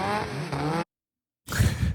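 A car at a car meet where drivers are doing burnouts: a loud, harsh burst of engine revving and tire noise, a sudden cutoff into silence, then a second rough roaring burst.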